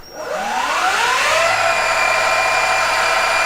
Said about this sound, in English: this is full throttle on the Chai battery